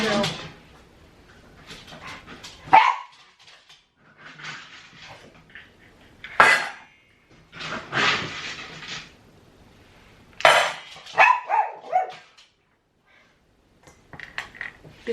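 Dogs waiting for their morning feed give short barks and whimpers between stretches of quiet, mixed with the clatter of bowls and dishes, while a person talks nearby.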